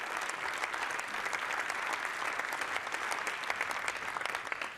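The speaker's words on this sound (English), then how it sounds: "Round of applause." Keynote audience clapping in a sustained, dense round of applause that holds steady throughout with no speech over it.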